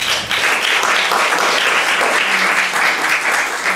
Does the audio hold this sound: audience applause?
yes